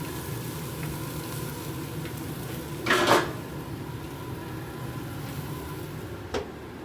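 Steaks sear in a hot pan with a steady, close sizzle, broken once by a short clatter of utensils and a faint knock near the end.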